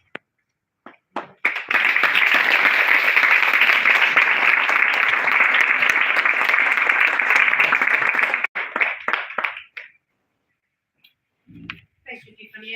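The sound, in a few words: big audience applause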